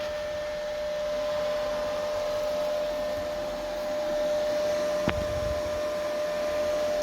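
An R-Tech MIG 180 welder idles with a steady, fairly quiet hum and whir, holding an even level throughout with one brief click near the end.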